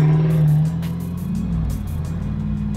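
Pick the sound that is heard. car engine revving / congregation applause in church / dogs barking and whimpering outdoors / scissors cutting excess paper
car engine revving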